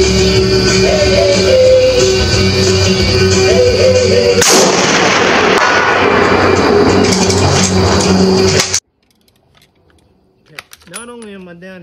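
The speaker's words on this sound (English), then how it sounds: "Not only am I down here shooting a very, very rare rifle, the Madsen M47" Rare Madsen M47 rifle firing hand-loaded rounds: a loud, sharp shot, then an echoing roll that carries for seconds before cutting to near silence, followed by a brief voice.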